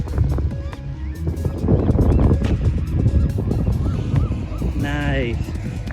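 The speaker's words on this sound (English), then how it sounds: "we caught a sight of these seagulls just flying" Seagulls flying over a beach in Oregon give a few harsh calls near the end, heard over steady wind and surf noise, with people exclaiming nearby.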